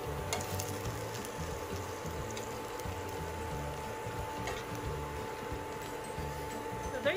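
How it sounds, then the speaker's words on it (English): Cabbage, sausage and bacon frying in a pan, a steady close sizzle and crackle running throughout with faint scraping, and a voice talking over it. "We'll just fry them"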